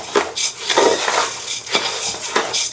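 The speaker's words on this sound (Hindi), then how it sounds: "लगभग 3-4 मिनट इसको चावल को अच्छे से आप कुक कर लें, भूंज लें अच्छे से" Rice roasting in a pot for Jodhpur-style Kabuli pulao, stirred with a metal spoon that scrapes and clinks against the pot in repeated strokes, close and fairly loud, with no voices.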